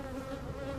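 Honey bees swarming actively around a hive while it is being requeened, a steady, close droning buzz with no voices over it.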